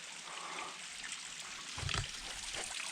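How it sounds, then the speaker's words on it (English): A small waterfall on a hiking trail in Zion National Park trickles and splashes faintly in a steady, gentle wash of water, with a short louder splash near the end. "We found a little waterfall."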